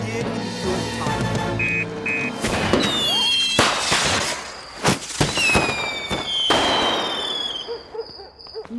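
Cartoon fireworks in a Fireman Sam episode whistle upward and burst in quick succession, several sharp cracks and bangs with rising shrieks, loud and close throughout.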